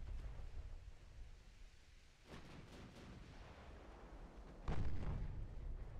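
Warship casemate guns fire in the naval game Ultimate Admiral Dreadnoughts, with two muffled booms that roll out over a low rumbling backdrop, the second landing heavier.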